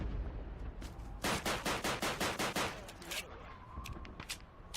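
A shooting range in an early Xbox 360 launch-title game, where a single automatic weapon fires a steady, evenly spaced burst of about a dozen sharp shots, followed by a few scattered single shots and faint ambient game sound.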